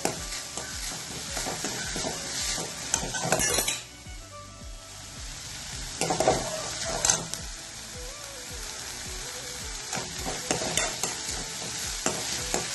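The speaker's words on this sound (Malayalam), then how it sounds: "സവാള വഴറ്റി വന്നിട്ടുണ്ട്" Onions sauté in a pan with a constant sizzle as a utensil stirs and knocks against the metal, producing occasional light clinks and bursts of louder frying at close range.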